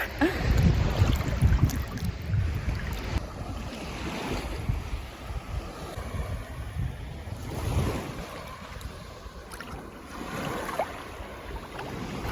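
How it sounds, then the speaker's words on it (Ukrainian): Sea waves washing onto the shore with algae floating in the water, repeated surges and wash-backs under gusty wind noise on the microphone, fairly close and continuous, with no talking. "Ось таке сьогодні моречко, водорості трохи плавають."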